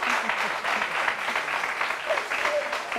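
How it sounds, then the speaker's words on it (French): An audience at a French television show applauds steadily throughout, a dense wash of clapping hands at moderate loudness that holds without a break. "ça s'applaudit"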